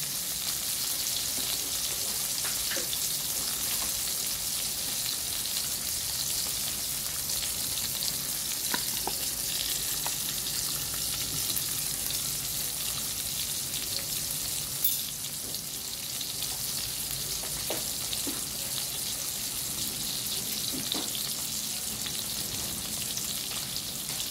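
A rib eye steak fries in a pan with crushed garlic and butter, giving a continuous even sizzle with scattered small pops and crackles throughout, and no talking.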